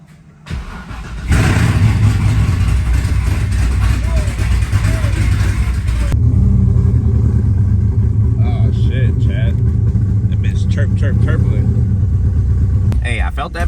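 A car with a welded differential cranks and starts after a brief quiet moment, then settles into a loud, rough, rumbling idle that keeps running close by, with short voices over it.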